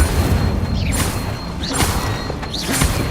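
Incendio fire spell cast in Hogwarts Legacy, heard as three loud whooshing bursts of flame roughly every second, with a low rumbling game background underneath.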